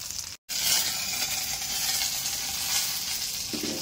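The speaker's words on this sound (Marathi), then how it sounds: "शिमला मिरची अशा प्रकारे खरपूस भाजली गेली पाहिजे" Capsicum roasting in a hot pan gives a steady, close sizzle and frying crackle throughout, with a brief cut of silence near the start and a faint stir or shift near the end; no talking.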